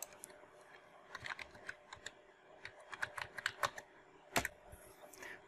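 A password typed on a computer keyboard during an online registration: quick irregular bursts of key clicks with short pauses, close and crisp, ending in one louder keystroke, with no talking.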